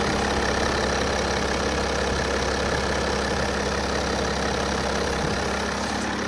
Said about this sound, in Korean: 730 롱바디 디젤 살펴봤고요 엔진음까지 듣고 영상 마치겠습니다